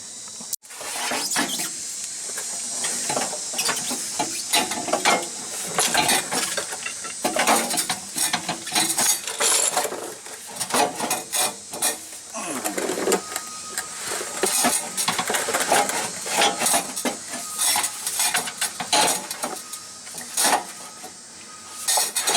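A cut exhaust pipe is wiggled free from under a Lexus GX 460 during a Magnaflow cat-back install: close, irregular metallic clanks, scrapes and rattles that keep going throughout.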